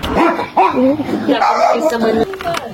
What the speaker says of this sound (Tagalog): Ang cute ng aso, guys.